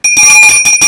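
A hand bell is rung rapidly at a school board meeting, about five bright, loud strikes in under a second, close and ringing on its own.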